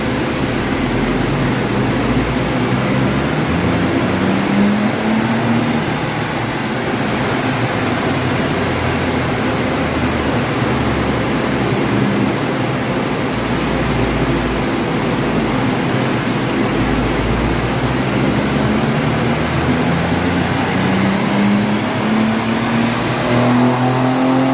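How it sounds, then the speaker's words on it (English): A car exhaust drones and revs steadily under load on a dyno, loud and continuous, with rising engine pitch sweeps and a constant roar throughout. "Exhaust noise."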